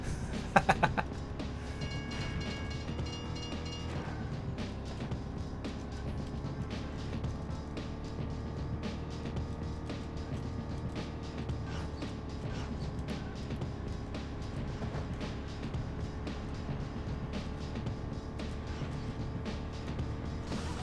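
Engine of a New Beetle car with a nitrous boost in the video game Beetle Adventure Racing, a steady droning roar running continuously throughout, with a brief rise in pitch early on and no talk.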